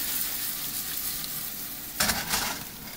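Tomatoes sizzle in a pan for a Niçoise tuna pâté, a constant close crackle that swells suddenly about two-thirds through as the pan is stirred or shaken.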